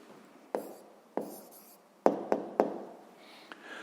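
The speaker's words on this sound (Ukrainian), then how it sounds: "Ну що ж, записуємо тоді відповідь." A pen writes an answer to a sixth-grade math exercise in quiet, close strokes, with a few sharp taps on the paper spaced through the passage.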